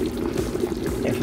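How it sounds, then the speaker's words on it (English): Water pours steadily into a pot of simmering chicken and dumplings in a home kitchen, a continuous close liquid stream lasting just over a second. "So I'm gonna end up adding more liquid, which at this point I just pretty much add more water"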